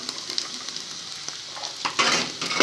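Chopped peppers hit a hot pan over onions for an omelette with meat, a soft sizzle and light utensil clinks that swell into a louder hiss near the end, no talk.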